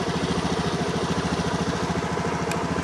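A fuel-injected motorcycle with a sputtering, hesitating fault idles in a repair workshop, a steady close-up putter with a rapid, even rhythm and no talking.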